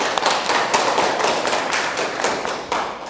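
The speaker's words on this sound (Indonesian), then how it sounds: "Oke, beri tepuk tangan untuk kita semua." A class of students claps together, a close, loud and steady patter of many hands with some sharper individual claps.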